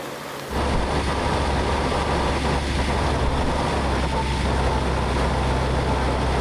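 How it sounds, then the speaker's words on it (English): Off-road car engine crawling up a steep rocky slope, a steady loud low rumble that starts abruptly and holds evenly throughout, with no talk over it. "What we've got to do is drive up this steep, rocky slope."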